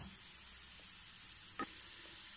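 Lentil paste mixture for paruppu urundai sautéing in a pan gives off a soft, steady sizzle throughout. It stays faint, with one brief clink of a utensil partway through.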